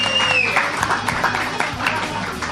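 A live studio audience at the Beverly Garland in Studio City, California claps and cheers, a dense crowd of applause with a voice talking over it throughout the short stretch.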